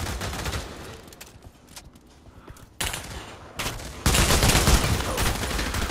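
Gunfire in the VR shooter game Pavlov: bursts of rapid shots, with a loud sustained volley near the end.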